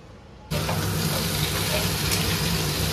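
Vegetables frying in a pan give a steady, dense sizzle that starts abruptly and holds at an even level, with no talking.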